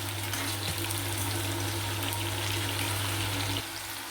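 Star gooseberries cook in a pan for a pickle, giving off a steady, close, continuous sizzle with a low hum beneath it that drops slightly near the end. No one speaks.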